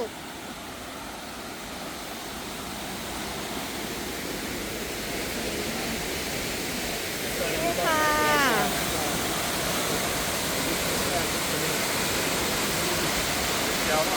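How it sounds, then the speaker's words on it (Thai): Loud, steady roar of Leke Leke Waterfall in Bali, a dense wall of rushing water filling the whole clip from close by, with a brief faint voice rising over it near the middle. "แต่ก็ถึงน้ำตกแล้วล่ะ"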